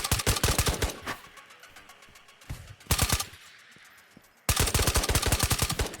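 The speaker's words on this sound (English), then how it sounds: "2 more ghosts appeared at the fence and another firefight broke out." Bursts of rapid automatic gunfire in a Ghosts of Tabor firefight, loud and close, with dense volleys at the start, a short burst mid-clip and sustained firing resuming at the end.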